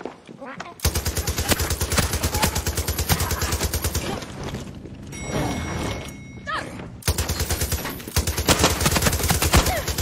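Rapid automatic gunfire in Far Cry 6 rattles almost without pause, loud and close, with a short lull of muffled thumps and a voice before the bursts resume.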